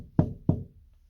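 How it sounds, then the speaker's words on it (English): Two sharp, hollow knocks on a door, close and evenly spaced about a third of a second apart, followed by quiet. "After that, they hear a knock."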